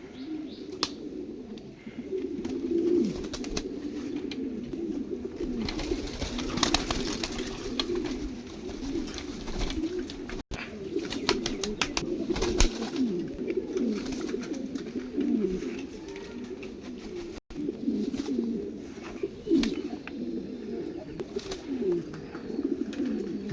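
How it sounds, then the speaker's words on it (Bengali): King pigeons cooing steadily as they are released one by one, with soft fluttering wingbeats and chirps over a continuous murmuring backdrop of birds. "আমি এক এক করে কিং কবুতর কিছু ছাড়তেছি"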